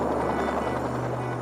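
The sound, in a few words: Fairey Rotodyne helicopter with tip jets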